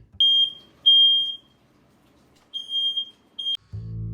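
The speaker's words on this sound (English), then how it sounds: "I woke up on day 3 to the fire alarm while cooking." A smoke alarm set off by cooking emits four high-pitched beeps in an irregular pattern, two close together, a pause, then two more, with a low thud at the end.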